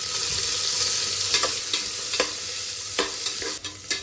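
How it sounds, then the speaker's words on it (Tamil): Sliced onions sizzle in hot oil in a biryani pot, a loud steady frying hiss broken by several sharp scrapes and clatters of a spoon stirring, with no talk. "இப்போ நம்ம கட் பண்ணி வச்சுருக்க 2 ஆனியன்ஸை நான் ஆட் பண்ணிடுறேன்."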